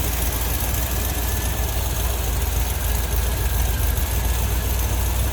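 A steady, smooth V8 engine idle from a 1967 Chevrolet Corvette Convertible with a deep, even low rumble, continuous and close with no voices.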